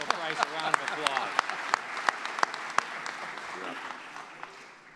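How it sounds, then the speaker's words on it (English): Audience applause at a building dedication ceremony, a steady wash of clapping with sharper individual claps standing out, moderately distant and fading toward the end, with a voice briefly audible underneath. "Let's give Principal Price a round of applause."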